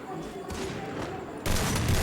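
Gunfire from a shooting video game, a dull muffled shot followed by a louder burst of several close, booming shots near the end.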